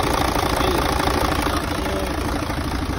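A heavy Mercedes truck diesel engine idles steadily with a low, knocking rumble, loud and close, continuous throughout, engine cover open.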